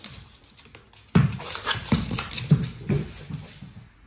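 A dog makes a few short, breathy sounds, with several distinct bursts spaced about a second apart and some soft rustling in between.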